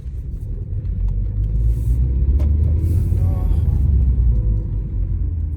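Car driving along with a steady, low interior rumble of engine and road noise, constant and close, with faint incidental sounds over it.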